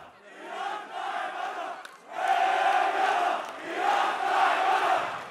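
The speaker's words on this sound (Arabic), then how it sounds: "وأيضا كانت قد شهدت التظاهرة هتافات وصفت حزب الله بالإرهابي" A large street protest crowd in Lebanon, opposing Hezbollah and Iranian influence, chants slogans in unison. The loud, rhythmic chant swells in repeated waves, with a short dip between phrases.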